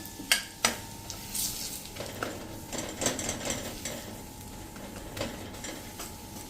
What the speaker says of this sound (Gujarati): 1 ટેબલસ્પૂન જેવો બેસન એટલે કે ચણાનો લોટ નાખી દેશું અને સ્લો ફ્લેમ ઉપર આપણે એને આ રીતે શેકી લેશું